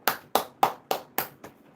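A small crowd claps in six sharp, evenly spaced bursts, each fading quickly, the last one softer, with no voices over it.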